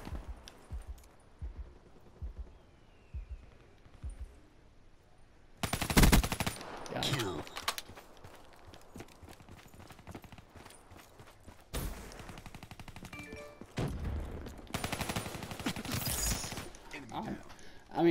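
Video game gunfire comes in dense rapid bursts, some loud and sustained, separated by quieter stretches of faint clicks and thumps.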